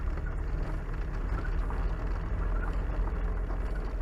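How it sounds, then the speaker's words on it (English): A steady low Mazda Miata autocross race car engine rumble drones continuously at idle, even and unchanging, with faint background noise over it. "we're idling at less than 5 miles an hour"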